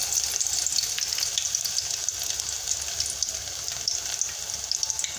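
Garlic sizzles in hot oil in a deep pot, a steady, close hiss of frying with faint crackles and no voices.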